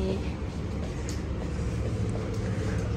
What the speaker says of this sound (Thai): นี่เราอยู่ข้างหน้ารถไฟเลยรถไฟฟ้ารถไฟใต้ดินก็มีนะคะ